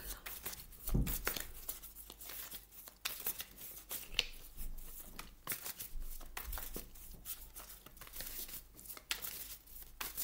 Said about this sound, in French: Je remélange bien le jeu pour vous les amis